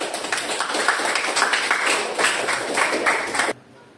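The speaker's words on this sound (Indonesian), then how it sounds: "Oke, tepuk tangan dulu." A class or audience at a teacher training session claps together, a loud, dense stretch of applause that stops abruptly near the end, leaving quiet.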